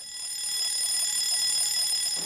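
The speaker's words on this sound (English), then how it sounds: "The general alarm might sound." A general alarm aboard a vessel near wire-rope drums, sounding as a steady, continuous high electronic tone that holds at a constant level throughout.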